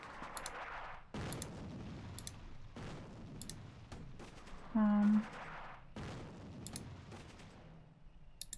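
Shots ring out in the wargame Attack at Dawn: North Africa: a series of separate sharp bursts spaced a second or so apart, moderately loud, with a brief electronic tone sounding in the middle.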